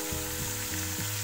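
Onions sautéing with a pinch of salt in a pan: a loud, steady close-up sizzle with a rhythmic low scraping pulse from stirring repeating about every third of a second, no talking.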